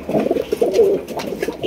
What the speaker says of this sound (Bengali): এখানে রয়েছে একজোড়া বোম্বাই কবুতর